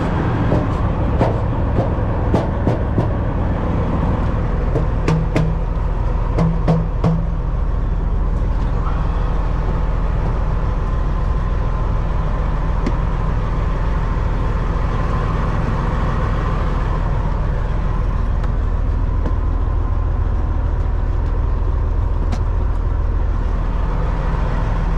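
Truck with a Detroit 14-litre engine driving, a low continuous rumble with road and cab noise, and a few sharp clicks and knocks early on.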